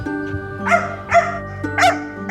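Companion dog barking and yipping in sharp, close bursts, four snappy barks in quick succession over a low steady hum.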